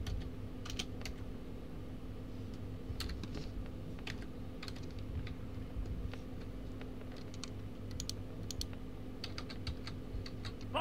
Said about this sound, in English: I'm gonna click my other keys just in case.